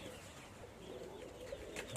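Pigeons perched on a rooftop give low, soft coos against faint outdoor background noise, quiet and somewhat distant throughout the short stretch.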